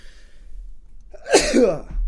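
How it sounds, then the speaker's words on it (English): A single sharp sneeze bursts out close by after a brief quiet intake of breath. "I'm going to sneeze in a second here"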